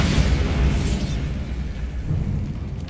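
A Bombarda blasting spell from Hogwarts Legacy erupts in a loud, booming explosion with a broad rumbling roar that lingers and slowly fades, heard alone without talk.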